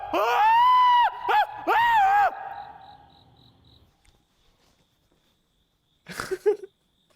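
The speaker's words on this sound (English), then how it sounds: "I'm gonna yell as if a ghost is picking me up and throwing me" A man yells loudly in a haunted former prison, the Missouri State Penitentiary, acting as if a ghost is throwing him at the ceiling: a few strained cries that trail off into near-silence, then one brief distant noise.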